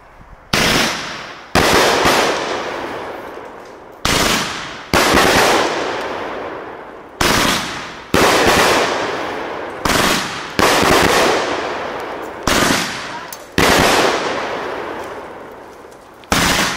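A World Class "Loud and Leagal" consumer firework cake fires a long run of loud, close, sharp bursts, about a dozen blasts in irregular clusters, each with a crackling tail.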